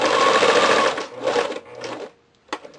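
A sewing machine stitches back and forth to tack elastic into the casing of a cloth diaper, with a loud close run of stitching followed by shorter bursts and pauses.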